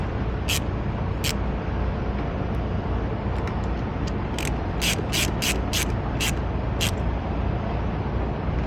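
Ratchet wrench tightening a fastener during rear AC evaporator work on a Ford Transit, sharp metallic clicks in short irregular bursts over a constant loud background hum, close up.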